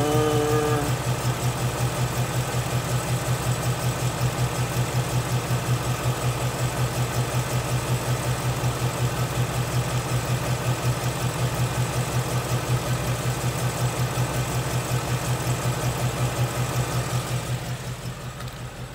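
A 2016 Ford Mustang with the Coyote V8 idles steadily nearby, a deep even rumble with a slight rhythmic lope that holds for most of the stretch before dropping off at the end.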